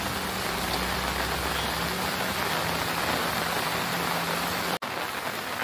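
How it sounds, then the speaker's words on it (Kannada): Rainwater pours down steadily near a family deity shrine, a dense, even hiss of falling rain that continues throughout, broken only by a split-second dropout near the end. "ಮಳೆ ನೀರು"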